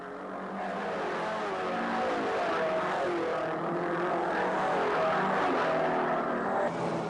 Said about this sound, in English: Quite obvious by the sound that these diesels are not turning the normal RPM of a truck you may pass on the highway